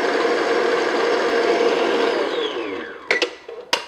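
An electric mixer whirs steadily through thick cream cheese frosting, its motor pitch sinking as it winds down and stops, followed by a few sharp clanks of the beaters against the bowl.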